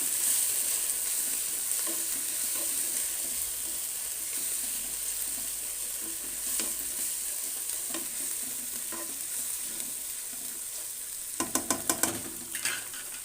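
Spice masala for palak gosht frying in a pan, a steady low sizzle with occasional stirring scrapes, ending in a few sharp clinks and taps near the close.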